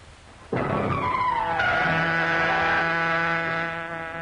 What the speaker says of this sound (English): That's the car we're looking for.